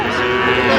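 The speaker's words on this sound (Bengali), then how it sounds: "এই যে ষাঁড় বাচ্চা, ষাঁড় বাচ্চা" A young bull calf at a cattle market gives one loud, close moo lasting under a second.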